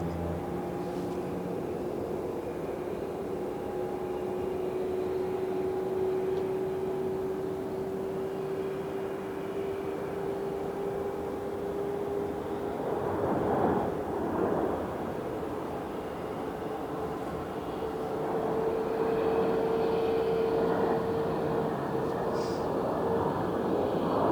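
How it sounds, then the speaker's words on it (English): An Airbus A321neo jet engine starts up on the ground at Phoenix airport, a steady broad roar with a whining tone that slowly climbs in pitch, heard from a distance for a long stretch. "The sound you hear behind me"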